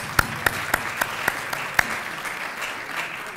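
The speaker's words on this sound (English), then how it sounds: "Give her a applause." Audience applause at a talk on capitalism, heard as a handful of sharp, evenly spaced claps standing out over a soft crowd patter that fades away after a couple of seconds.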